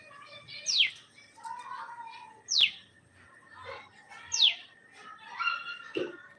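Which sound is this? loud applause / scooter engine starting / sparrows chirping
sparrows chirping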